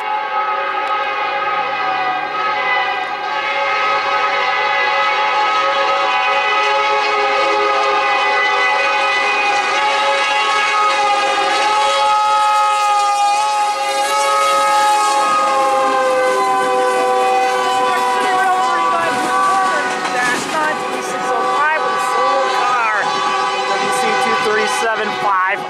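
A CN locomotive horn blares continuously in long, loud, layered tones, sounding close by, with the rumble of a northbound freight train arriving at Ladysmith Yard underneath.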